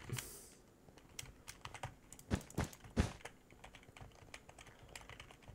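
Rapid clicking from a mouse or keyboard while playing Minecraft Bedwars, a series of sharp, close ticks with a few louder clustered clicks in the middle, with no voices.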